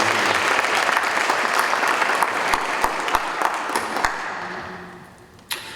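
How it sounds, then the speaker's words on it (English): A room full of people applauding, dense steady clapping that thins out and fades near the end, with a final sharp clap. "Let's give Dr. Haywood one more quick round of applause"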